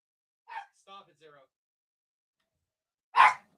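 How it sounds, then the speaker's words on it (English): A few dogs bark in the background: three short, moderate barks close together, then a pause and one louder, sharper bark. "Dogs are going nuts in the background."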